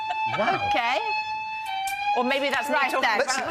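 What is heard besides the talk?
fire alarm going off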